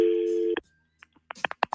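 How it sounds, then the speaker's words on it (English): A steady electronic phone tone sounds on a radio show, then cuts off, followed by a few short clicks and beeps of a call connecting. "Let's make the phone call to Christina."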